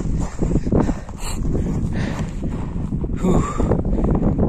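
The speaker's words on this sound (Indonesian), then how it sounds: "Agak kedengeran ya, karena cuacanya sangat kencang angin ya, anginnya sangat kencang." Strong wind on Mount Kerinci, loud buffeting gusts battering the microphone in uneven rumbling surges with no pause.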